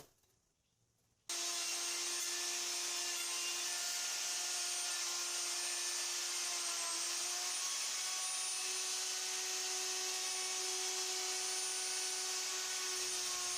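A handheld router with a large bit cuts a hardwood back panel freehand, a steady high whine that starts abruptly after a brief quiet moment and holds loud and even throughout.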